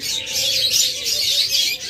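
Ghughu doves kept in a breeder's cages call steadily amid a dense wash of bright chirping from many birds, continuous and close for the whole stretch, with no talking.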